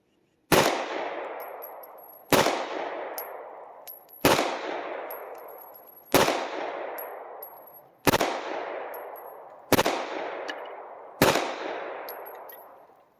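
Seven loud single gunshots from a P320 X Compact pistol at a shooting range, spaced about every one and a half to two seconds, each a sharp crack followed by a long ringing decay, with no talk.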